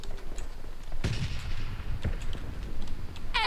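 PUBG Mobile gunfire: sharp shots crack out at about one second and two seconds over a low rumbling background, with light clicking of the kind made by tapping a screen.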